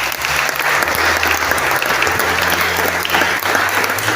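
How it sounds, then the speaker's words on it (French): A church congregation at a French-language midday worship session breaks into steady, dense applause that fills the room without pause, with faint cheering mixed in. "Est-ce qu'on peut acclamer pour Dieu?"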